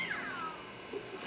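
Catwoman's cat meow in a Batman video game, a short rising then falling mew heard once near the start over a steady background hum, with a fainter second cry toward the end.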